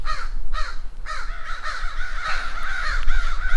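A whole group of crows caws repeatedly around a fledgling crow out of the nest, harsh overlapping calls rising and falling close by against steady low background rumble.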